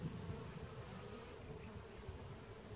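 Honeybees at a top bar hive make a faint, steady buzz throughout, heard softly from nearby with no voices.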